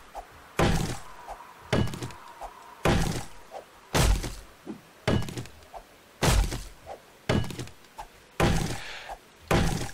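Repeated fire-axe strikes in 7 Days To Die land at a steady pace, roughly one per second. Each is a solid, close wooden thud with a brief crackling tail, and the chopping is heard on its own.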